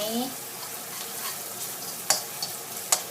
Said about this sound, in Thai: ตักเครื่องไปให้หอมใจเย็นๆนะคะ ไม่ต้องรีบร้อน หอมเหลืองสักนิดนึงเอาไปใส่ปลาดุกนะคะ